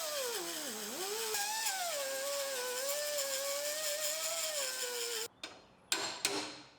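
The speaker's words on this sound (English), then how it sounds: "There's a couple seam welds on the top of the tunnel, so we'll grind these off." A grinder cuts seam welds off the top of the tunnel on a 1965 Mustang body: a loud, sustained whine that wavers in pitch, cuts out, then gives a few short restarting bursts.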